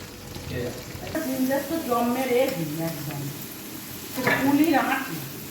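Carrots and beans are stir-fried in a pan, a close, steady sizzle with scraping stirs running under a voice speaking throughout.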